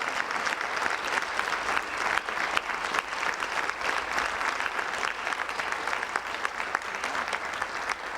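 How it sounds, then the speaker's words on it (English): Audience applause for honored women at an evening event, a full, lively round of clapping with distinct individual claps audible throughout, steady and fairly loud without talk. "Let's give them a huge round of applause."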